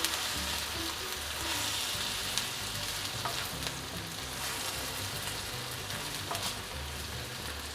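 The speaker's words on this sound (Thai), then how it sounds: "ผัดให้น้ำมันมัน เคลือบนะครับตัวข้าวนะครับ" Rice is stir-fried in oil in a hot pan for pandan chicken rice, giving a steady, close sizzle with light scraping and a few clicks from stirring, and no talking.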